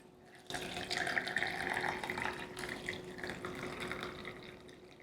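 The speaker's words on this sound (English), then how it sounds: "And then I can pour some water." Water is poured into a cup holding a tea bag, a steady splashing stream starting abruptly and running continuously at moderate loudness, close by.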